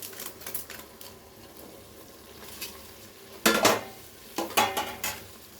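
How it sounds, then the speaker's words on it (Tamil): Cinnamon, fennel and poppy seed masala is mixed in a pan with sharp spoon scrapes and clatters, sparse at first, then clustered bursts of louder knocks near the end, nearby and without talk. "மிக்ஸ் பண்ணிட்டு எல்லாத்தையும் ஒன்றா கலக்கிறோம்."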